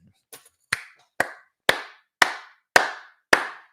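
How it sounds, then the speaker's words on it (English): Six crisp hand claps ring out at an even, steady pace after a couple of softer taps, close by and clear with no talk over them. "That deserves a clap."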